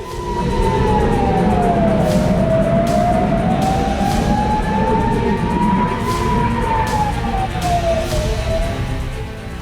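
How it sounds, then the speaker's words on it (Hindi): A loud air-raid siren wails continuously in northern Israel during a Hezbollah rocket attack, its pitch sliding slowly up and down over a low rumble of traffic. "सायरन की गूंज"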